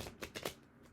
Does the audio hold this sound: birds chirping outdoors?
no